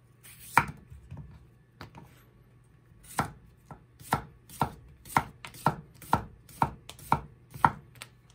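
A knife chops through food on a cutting board in about a dozen crisp, close knocks, sparse at first, then settling into a steady, even rhythm.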